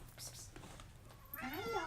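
A cat meows once, a rising and falling cry near the end, with a person's voice talking quietly beforehand in a room where gel printing is under way.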